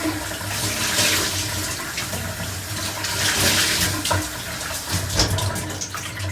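Cleaning cloth being rinsed under a running kitchen tap, a steady close splashing rush of water with brief sloshing bursts as the cloth is worked in the stream.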